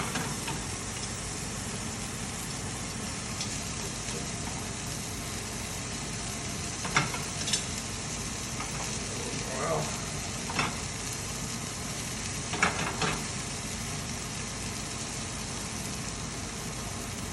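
A potato-encrusted fillet sizzles steadily in a pan over a large burner, a constant close frying hiss with a few soft clinks and scrapes, and no voices.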